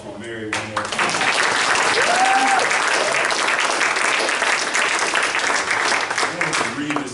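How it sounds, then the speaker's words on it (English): Loud, sustained applause from an evening lecture audience for Mary, rising quickly and holding as a thick, continuous clapping with a voice heard briefly at the start. "Can we give a round of applause for Mary one more time?"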